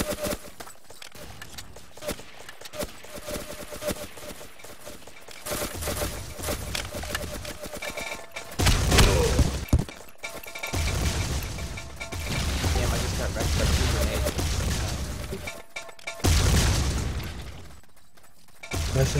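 Submachine gun fire in the blocky shooter Build and Shoot, bursts of rapid shots and clattering impacts that come and go across the stretch, with two people talking casually over much of it.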